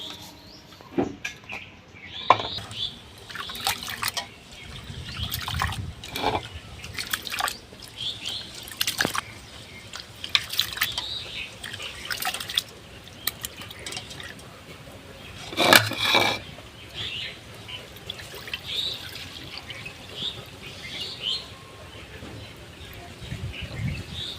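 Gobindobhog rice being rinsed by hand in water in a home kitchen, with soft irregular splashes, drips and swishing that run steadily throughout at close range, birds chirping faintly in the background.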